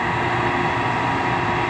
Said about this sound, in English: all the noise you hear today is from the generators down there